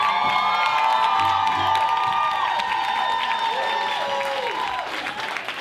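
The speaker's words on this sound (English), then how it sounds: "Let's give her a round of applause" A theater audience applauds, cheers and whoops as author Ann Bannon is welcomed to the stage; loud, dense clapping with excited shouts that gradually thins near the end.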